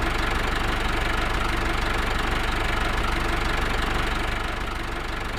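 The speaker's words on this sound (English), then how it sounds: "Very loud, this tractor, that's better." Loud farm tractor engine running steadily at a constant rumbling drone on a farm, close and continuous throughout with no speech, easing slightly toward the end.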